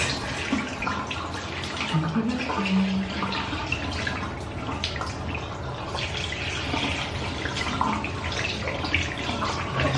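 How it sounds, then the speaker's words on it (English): Warm water running and splashing at a bathroom sink as a face is wetted, a steady close wash of flowing tap water with small splashes throughout. "wet up my face with warm water"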